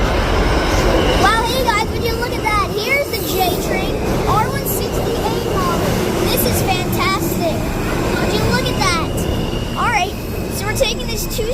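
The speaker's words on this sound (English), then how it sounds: "Let's tappity tap this Broad Street bound J train out of here." Continuous rumble of a New York subway J train in motion, with squealing wheel tones and people talking nearby throughout.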